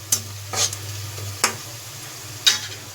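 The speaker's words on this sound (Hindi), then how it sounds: "ये प्याज अच्छी तरीके से भुन गया है।" Onions browning in a pan while garlic and chillies cook alongside, with a low quiet sizzle broken by four sharp scraping stirs of a spatula.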